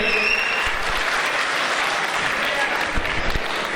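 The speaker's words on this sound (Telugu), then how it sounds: "ఒక్కసారి గట్టిగా క్లాప్స్ ఇస్తే, కవితక్కకు క్లాప్స్ ఇస్తే నాకు కూడా ఆ క్లాప్స్ చెందుతాయి" An audience at a Telangana American Telugu Association launch event claps steadily for Kavitha, a dense, even round of applause that holds at full strength throughout.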